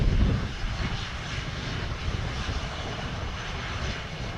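An American Airlines jet rolls for takeoff on runway 07 at Sangster International Airport in Montego Bay, Jamaica, its engines a loud, steady, broadband roar held without a break for the whole stretch.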